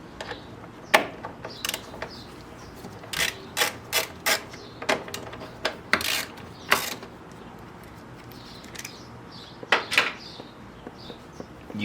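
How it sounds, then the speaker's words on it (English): A ratchet with a 10mm socket clicks in short, crisp bursts while removing bolts from a plastic engine cover on a BMW B58, heard close and distinct in a quiet workshop. "Use a 10mm for these bolts to remove the plastic cover."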